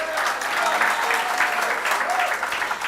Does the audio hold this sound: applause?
yes